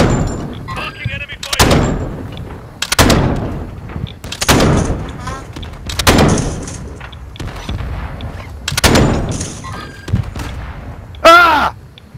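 Heavy gunfire in Call of Duty: Modern Warfare II: loud, booming shots land roughly every second and a half, each with a rumbling tail, and a brief high electronic chirp follows near the end.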